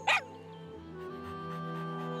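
Sherbet, an animated dog, lets out a single sharp bark at the start, then a faint electronic tonal hum takes over and fills the rest.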